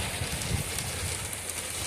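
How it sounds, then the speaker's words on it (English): Hard rain pours steadily over a 50-acre pumpkin field, a continuous broadband hiss of drops with no pauses. "And we're getting rained on. Hard."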